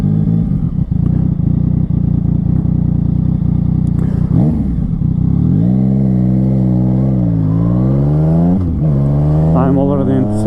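A Yamaha MT-09 (FZ-09) motorcycle with ABS idles with a loud, close burble, then revs up in several rising and falling sweeps as the engine accelerates.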